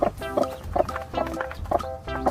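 A hen on a farm clucks in a steady series of short, throaty calls, about two per second, close by and fairly loud, with no voices.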